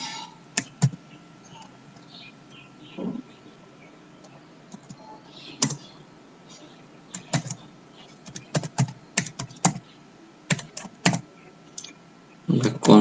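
Code is typed on a computer keyboard during a C# object-oriented programming lesson, with bursts of fairly loud, close key clicks separated by pauses and a few quick flurries.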